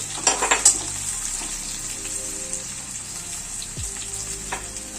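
Soybean chunks fry in oil with chilli and spices, a close, steady sizzle with a few sharp spattering crackles at the start and light stirring clinks.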